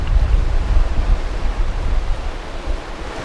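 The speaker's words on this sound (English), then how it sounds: "of the waves coming in through the rocks here" Surf surges and washes in through the rocks along a rocky coastline, a steady broadband roar with rolling swells and no voices.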